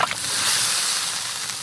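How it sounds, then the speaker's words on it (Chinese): Tofu goes into boiling water in a wok for a carp and tofu stew, giving a steady close hiss and bubbling sizzle that holds evenly throughout with no talk. "炒香以后倒入开水， 再下入豆腐"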